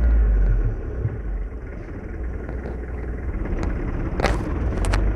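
A car accelerates during a driving lesson, a loud low engine rumble that eases briefly and then builds again, with no voices heard.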